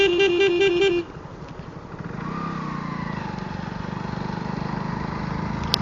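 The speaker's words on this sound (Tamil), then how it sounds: "ஸோ இந்த ஹார்ன் தான் அங்கே நல்லா இருக்கு." A horn on a 2025 Hero Splendor Plus motorcycle gives a stuttering, pulsing tone for about a second. It cuts off and is followed by the bike's steady idling engine hum.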